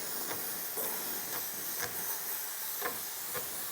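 A heat gun blows hot air over paint protection film on a car with a steady, close hiss, broken by several short, faint puffs or crackles.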